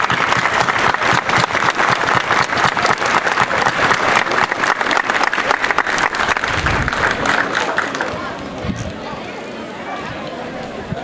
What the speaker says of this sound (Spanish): pido para ellos no un aplauso, una ovación, señores,